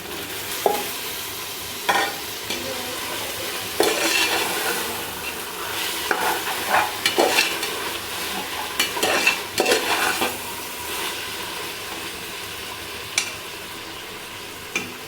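Tomatoes sauté in oil with ginger-garlic paste in a pan for home-style biryani, giving a steady sizzle broken by intermittent scraping clinks of a spoon stirring against the metal.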